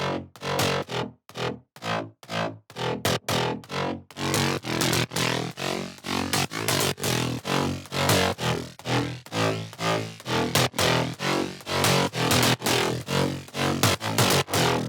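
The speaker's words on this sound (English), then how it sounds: "I added some basses too, which are also from my Future House sound bank that sounds like this." Future house bass sounds from a sound bank play in a driving electronic loop, loud and continuous, with punchy rhythmic pulses that start sparse and gapped before settling into a steady, dense groove.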